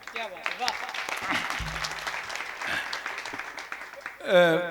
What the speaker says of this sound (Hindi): आपकी तालियों में इतना जोश होना चाहिए।